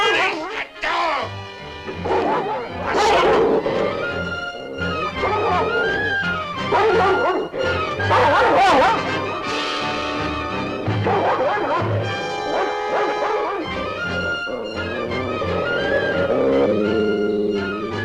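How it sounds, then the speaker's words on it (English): A dog yips, whimpers and barks excitedly in a scene from the 1957-1959 Zorro TV series, mixed with shouting voices and dramatic orchestral music. "Let the dog loose! Fernando! Unleash the dog!"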